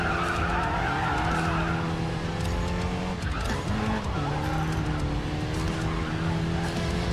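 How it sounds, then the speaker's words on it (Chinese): A car in the realistic racing video game Racing Master skids hard as the handbrake is pulled through a corner, a loud sustained tire squeal over the steady engine drone, lasting several seconds with no talking. "在副标处拉手刹车，过弯就会更轻松一点。"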